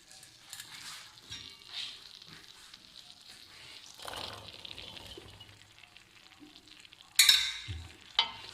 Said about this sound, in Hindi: अब हम सारे चने मसाले में ऐड कर देंगे